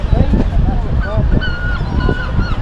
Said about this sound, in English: I thought they were fighting each other, the seagulls.